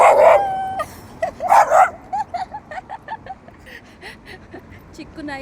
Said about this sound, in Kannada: ಚಿಕ್ಕ ನಾಯಿ ಮರಿ ಆದ್ರೂ ಜಾಸ್ತಿ ಸೌಂಡ್ ಮಾಡ್ತವೆ.